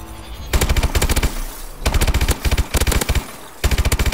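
Gold automatic weapon firing in Call of Duty: Advanced Warfare multiplayer, loud close bursts of rapid shots in several separate strings with brief gaps between them.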